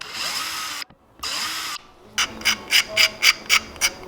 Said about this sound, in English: You actually drill these, you don't just poke them.